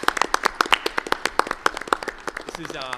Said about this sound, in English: So let's give Defino a big round of applause.